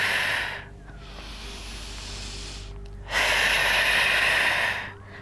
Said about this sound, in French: Inspirez par le nez et expirez par la bouche.